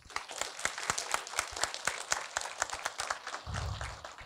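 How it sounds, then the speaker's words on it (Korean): Audience at a school violence prevention talk in Gwangju claps for the panel, with sparse, fairly distinct individual claps in an uneven rhythm from a small group, moderately loud, and a low rumble near the end. "이 패널들에게 다시 한번 박수 한번 주십시오"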